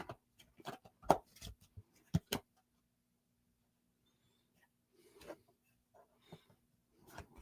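Tarot cards shuffled close by, coming as short papery riffling bursts with quiet pauses between them.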